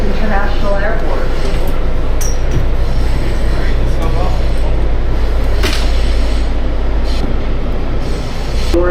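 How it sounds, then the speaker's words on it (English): Silver Line metro train running through the tunnel near Dulles International Airport, a loud steady rumble of wheels and motors with brief squeals and clanks throughout, no pause in the noise. "This is a Silver Line train to Ashburn."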